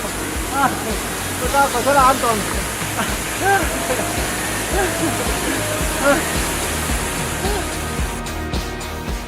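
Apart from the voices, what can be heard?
waterfall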